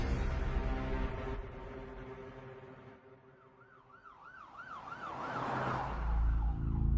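A wailing siren rises and falls repeatedly, growing louder over engine rumble as an emergency vehicle approaches.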